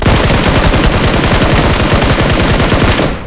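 A SCAR rifle fires in a battle royale video game on the Livik map. Loud, rapid automatic bursts run continuously for about three seconds up close, then cut off abruptly.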